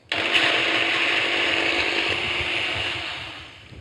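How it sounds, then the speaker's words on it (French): A kitchen blender runs at full speed, whirring steadily as it purees chili seeds into an Asian salad dressing for a prawn salad; the motor drone is loud and close, continuous from start to end. "On va fermer notre cuve et on lance notre mixeur."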